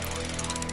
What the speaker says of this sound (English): Mayuri is at her sewing machine, working on her costume.